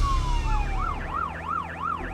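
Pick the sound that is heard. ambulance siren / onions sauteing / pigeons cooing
ambulance siren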